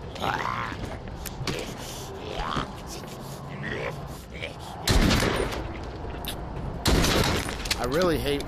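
Gunshots in The Walking Dead video game, two loud bursts of gunfire several seconds apart over game noise and grunts, with someone talking through the stretch between them.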